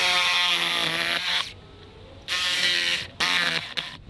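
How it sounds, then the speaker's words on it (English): A jigsaw cuts through rotted wood in three loud, buzzing bursts separated by short quiet gaps, close up with no talking. "Just take your jigsaw like this."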